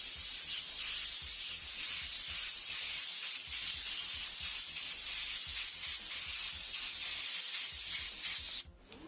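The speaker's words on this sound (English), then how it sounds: "Take our reddish brown color again, spray that on, medium coat" An airbrush sprays a medium coat of reddish brown paint in a continuous close hiss with a faint rhythmic pulsing underneath, cutting off abruptly near the end.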